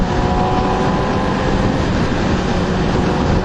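A Yamaha R6 motorcycle engine revs hard in third gear in sport mode, a loud continuous roar with dense tonal layers, steady and close throughout without any voices.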